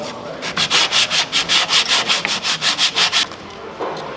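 Sandpaper scrubs by hand during caravan servicing, about fifteen brisk, evenly spaced rasping strokes close to the listener before it stops.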